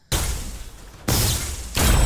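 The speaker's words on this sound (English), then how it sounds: "Fault has 1 report when you fire and 1 whack when the projectile hits" Belica's gun in the game Fault gives a loud, close report, then a heavy whack as the projectile strikes. Three sharp bursts follow each other within about two seconds.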